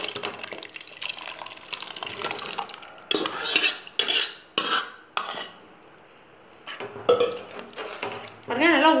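Cooked dal poured into a pot of spinach sambar and stirred with a ladle: liquid splashing and pouring, repeated scraping and clanking of metal against the pot, close up, with brief pauses between bursts of stirring.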